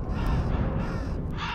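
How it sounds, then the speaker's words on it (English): Crows caw harshly and repeatedly close by, several raspy calls overlapping against a low rumbling backdrop in the dark game Shadows of the Damned. "Oh, what are these crows doing?"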